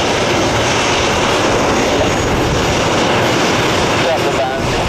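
Southwest airliner engines heard from the cabin in flight, a loud steady broadband roar that holds unchanged throughout.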